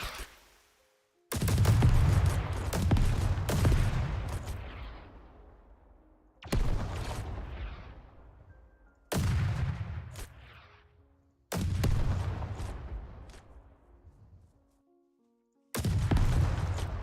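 Airstrike explosions and gunfire from the Call To Arms game on a City 17 map boom in several loud, heavy bursts, each rumbling and decaying over a few seconds with short silent gaps between, and no talk over them.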